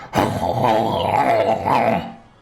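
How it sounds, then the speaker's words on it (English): A deep bestial growl rumbles steadily for about two seconds, loud and close, during a Dungeons and Dragons session, standing alone without any talk over it. "You guys can hear this bestial growl."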